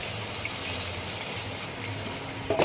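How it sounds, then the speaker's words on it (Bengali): Water pours steadily into a pan of creamy vegetarian curry gravy, a close, continuous gushing wash that ends with a brief clatter. "আমার গ্রেভিটা হয়ে গেছে, এরপরে আমি একটু জল অ্যাড করব।"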